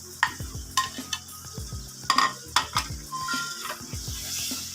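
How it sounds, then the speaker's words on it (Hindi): Chicken pieces fry in a pan with masala, a close sizzle punctuated by several sharp spoon-on-pan scrapes and clinks in quick succession, with no voices. "चिकन को 1 मिनट हम फ्राई करेंगे।"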